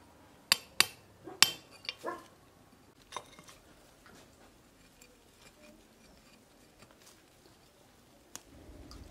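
A hammer and chisel chip at rock crevices to free a fig tree for bonsai: a few sharp, close knocks in the first seconds, then sparse faint taps and quiet.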